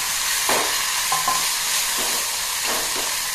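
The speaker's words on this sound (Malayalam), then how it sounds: "നമുക്ക് അടുത്തത് അതുപോലെ വറുത്തെടുക്കാം" Green bitter gourd frying in oil with green pepper, a continuous close sizzle broken by several scraping stirs of a spoon in the pan.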